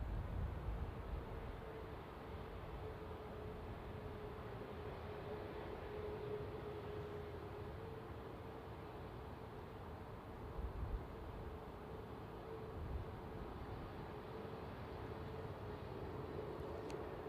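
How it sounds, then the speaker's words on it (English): Jet2 passenger plane landing at Manchester Airport: a faint, steady distant roar with a low droning hum, continuous and even throughout, no talk. "A very sedate landing for Jet2."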